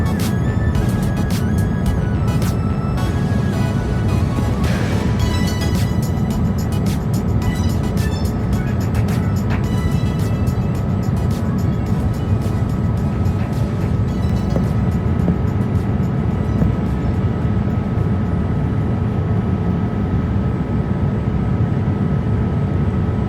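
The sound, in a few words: Hainan Airlines Boeing 787-8 cabin on approach to Dublin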